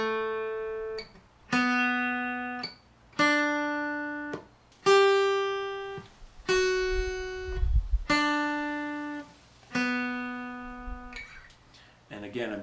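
Acoustic guitar sounds sustained single notes in a steady 3/4 pattern, each tone ringing for two beats and then cut off for a one-beat rest, repeated about seven times, close and clear.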